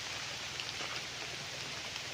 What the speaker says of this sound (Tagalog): Naulan lang po tayo ngayon mga kapraps kaya ayan o, lakas ng ulan.